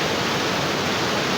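Heavy monsoon rain flooding a Karachi street, with knee-deep water swamping shops and cars; a dense, steady broadband wash of pouring water fills the clip without break, loud and close, with no voices.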